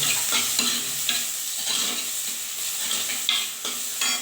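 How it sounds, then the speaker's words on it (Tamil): Onion, tomato and garlic sautéing in a hot pan, with a steady close sizzle broken by repeated scraping stirs and a few sharper clinks, no talk. "இந்த வெங்காயம் தக்காளி பூண்டு போட்டு நல்லா வதக்கிக்கலாம்"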